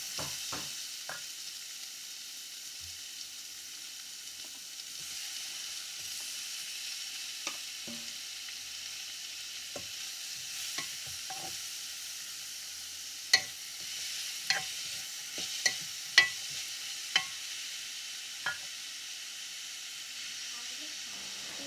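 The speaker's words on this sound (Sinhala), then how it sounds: "ඒ ටික ඉතින් හොඳට ටිකක් ටෙම්පරාදු වෙන්න දෙන්න ඕනේ අපි." Tempering spices with tomato and chili flakes sizzle steadily in a pan for a fish curry, a soft continuous frying hiss broken by a few sharp spatter pops and light stirring taps.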